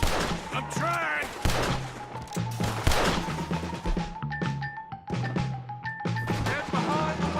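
Video game shootout with repeated gunshots cracking over a busy mix of shouting voices and tonal game score, shots coming in irregular bursts throughout.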